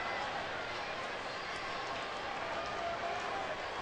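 A large baseball crowd in a stadium during the seventh inning stretch, a broad, steady wash of many voices and cheering that stays full and even throughout.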